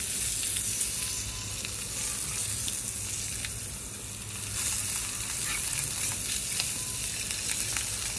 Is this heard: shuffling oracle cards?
no